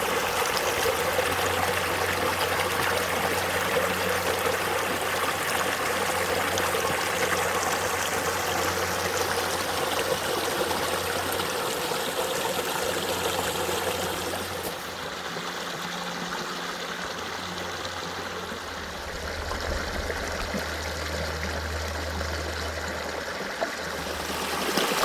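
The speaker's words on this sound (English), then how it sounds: "A nice little spot here along the creek." Agua Caliente Creek runs along the Pacific Crest Trail, a steady close rushing and trickling of water over rocks that continues unbroken and fairly loud throughout, with a low rumbling undertone and no voices.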